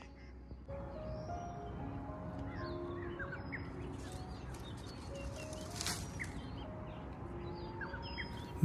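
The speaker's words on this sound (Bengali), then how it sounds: "বিভিন্ন পাখিদের আওয়াজ সকালবেলায় শোনা যায়।" Birds call at dawn in a tea garden in the Darjeeling hills: scattered chirps and whistled notes, with a duck-like quacking among them, over a low steady background hum, moderately distant and fairly quiet.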